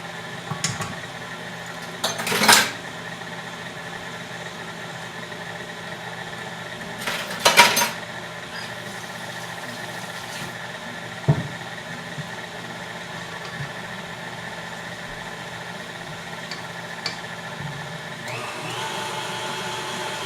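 An electric mixer spins steadily while creaming cupcake batter, a constant motor whir with a few sharp clinks against the bowl scattered through it and no talking.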